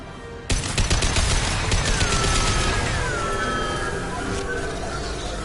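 Sustained rapid gunfire in the Mass Effect 2 Legendary Edition video game, a dense, loud barrage of shots that starts abruptly and continues without pause over a steady mechanical background hum.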